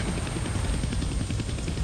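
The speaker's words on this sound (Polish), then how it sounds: "no to przejmujemy helikopter" A helicopter in the Deadpool video game gives off a steady, loud rotor roar with a dense low-end thrum that fills the whole moment.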